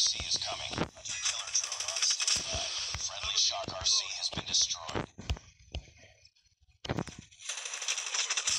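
HVK-30 assault rifle fire in Call of Duty Mobile multiplayer: loud, rapid automatic bursts broken by short pauses, with a near-silent gap before the shooting resumes.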